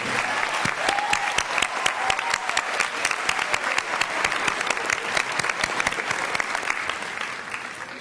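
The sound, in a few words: graduation audience applause for senior band members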